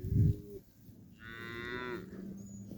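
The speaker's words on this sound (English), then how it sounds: "there's all the cows" Cattle mooing on a farm on a cold day, a low short call followed by a longer, higher, drawn-out moo from another cow, fairly near and clear with no talk.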